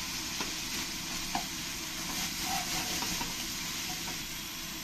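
Ginger, garlic and chili paste with salt and turmeric stir-fried in a pan for a fish curry, a steady hissing fry with scattered soft scrapes and taps from stirring, close and without speech.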